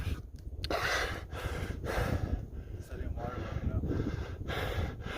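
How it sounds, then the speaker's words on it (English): A hiker on the Arizona Trail breathes hard and heavily after a steep climb at high altitude, rhythmic gasping inhales and exhales close to the microphone with wind buffeting in the background. "I'm still breathing hard."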